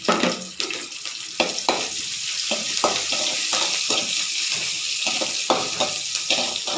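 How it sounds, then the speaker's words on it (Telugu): Tempering of spices, green chilli and coriander frying in a pan, a bright steady sizzle with intermittent stirring taps and clinks close by, no talk. "అన్ని ఫ్రై చేసుకోవాలి ఇలా పోపు అన్నీ వేసుకున్నానండి"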